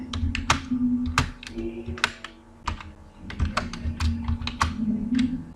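C++ code is typed on a computer keyboard. Quick, crisp key clicks come in irregular runs with short pauses between them, close and clear over faint room hum.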